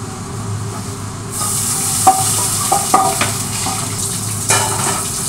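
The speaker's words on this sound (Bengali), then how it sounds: "ডালে ফোড়ন দিয়েছি, ডালটা একটু ফুটুক" Spices for tempering dal sizzle in a pan. A loud, steady hiss starts suddenly after a moment of quiet, and a few spoon or metal clinks sound over it.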